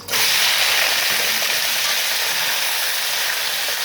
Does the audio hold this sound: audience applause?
no